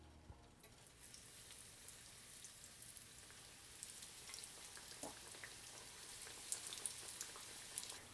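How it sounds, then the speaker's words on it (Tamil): A chicken mayo bread roll frying in hot oil in a pan gives a steady, faint crackling sizzle like light rain, with small pops scattered throughout and no voices. "நம்ம செஞ்சு வச்சுருக்க ரோலை அதில் போட்டு பொரிச்சிடலாம்"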